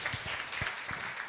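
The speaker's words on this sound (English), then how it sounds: "Another round of applause." Applause from the audience at a consultative forum on a gender equality affirmative action bill, a steady wash of many hands clapping at moderate level with a few louder claps poking through.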